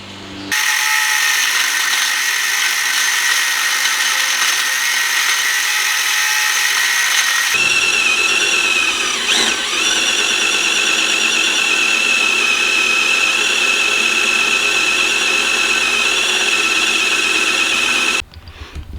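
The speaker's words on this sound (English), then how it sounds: "So we are going to cut out that riveted bolt and then put in another one and possibly weld it" Power tool cutting out a riveted bolt on a Jeep XJ, a loud, steady high-pitched whine that shifts pitch partway through and runs nearly continuously before cutting off abruptly near the end.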